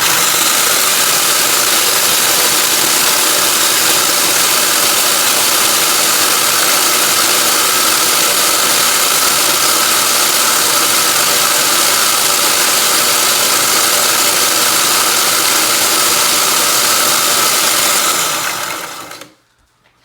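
A loud, steady motorized whir and grinding roar of a machine grinding eggshells into powder runs continuously for about twenty seconds, then cuts off abruptly.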